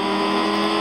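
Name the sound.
BMW car engine revving in a video game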